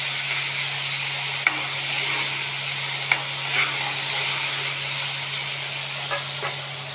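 Ground tomato paste sizzles in oil left over from frying fish, a steady, loud hiss with a low electrical hum underneath and a few faint clicks from the pan.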